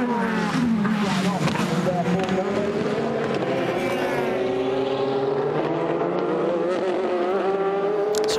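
Prototype race cars, led by two Audis, roar past at the 6 Hours of COTA endurance race, with a loud, sustained engine drone whose pitch climbs steadily and a commentator talking over it.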